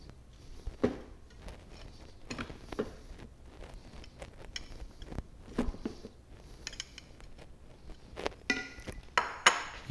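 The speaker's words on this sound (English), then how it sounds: "Now, with my wooden spoon," Wooden spoon scooping moist, soft cooked rice from a rice cooker into a bowl: a few close, soft scrapes and knocks that come in scattered bursts, with brief clinks toward the end.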